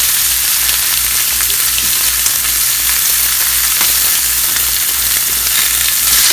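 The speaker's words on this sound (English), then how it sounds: "I'm just going to toast these up, cook them up, get them toasted." Chicken sizzles and fries steadily in an oven-safe skillet as it browns, a dense, continuous crackling hiss with a low hum beneath and no talking.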